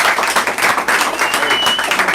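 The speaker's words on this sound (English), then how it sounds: "round of applause to everybody who came out tonight." A crowd at a barbershop talk event applauds loudly and continuously, dense close clapping with a few cheers and voices mixed in.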